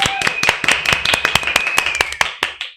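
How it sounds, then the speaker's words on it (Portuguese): A round of applause at the opening of a podcast recording, a few people clapping in sharp distinct claps at a quick uneven rhythm, close, then fading out. "Uma salva de palmas!"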